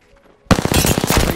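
Gunshots in a competitive shooter video game: a sudden burst of rapid automatic fire starts after a brief quiet lead-in and keeps rattling in quick repeated shots.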